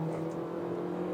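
A Honda HR-V Touring 2023 or Hyundai Creta Ultimate 2023 accelerates at full throttle on a highway during a 60–120 km/h passing test, its engine droning steadily and loudly from inside the cabin with no one talking.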